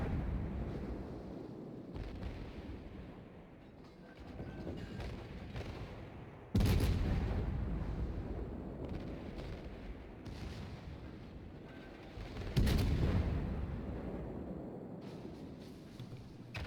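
Naval guns on a warship in a video game fire high-explosive shells in two heavy, booming salvos spaced several seconds apart, each followed by a long rumbling decay, with lighter distant gunfire between them.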